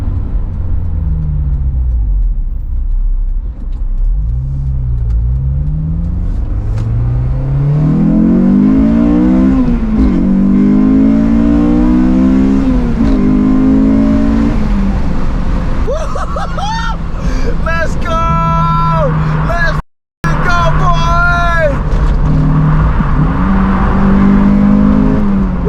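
Honda S2000 fitted with a K&N intake pulling hard in first gear, loud rising engine revs with a climbing intake roar, a brief gap as the shift comes, then revving again up close while voices chatter faintly underneath.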